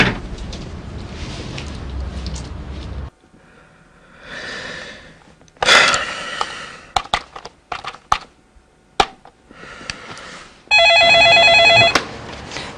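A telephone rings in short electronic bursts between stretches of quiet and shuffling handling noise, fairly close and loud, with no voices.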